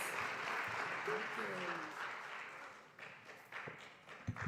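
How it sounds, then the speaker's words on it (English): Audience applause at a Martin Luther King Jr. regional celebration, a steady wash of clapping that fades gradually, with a few voices and thumps near the end. "Ms. Vicki Hill, give her a round of applause."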